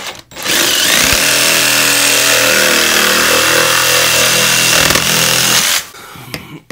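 A power tool, likely a saw, makes a 9.5 inch cut while installing a sink, running loudly and steadily for about five and a half seconds before stopping, with a few small knocks as it winds down.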